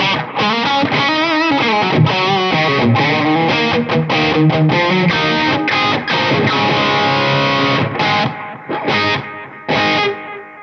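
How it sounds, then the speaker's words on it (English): A distorted electric guitar plays a busy run of notes, each one smeared and repeated by echoing delay, loud and close, with brief gaps near the end. "Wonderful little delay pedal, does what it says on the tip."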